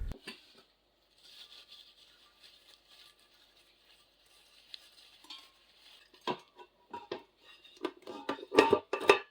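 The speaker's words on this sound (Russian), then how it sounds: "Кастрюли сразу кладу в кастрюлю большего размера" Cooking pots coated with paste are set down into a larger pot, giving a few faint metallic clinks and clatters near the end after a stretch of quiet hiss and soft handling noise.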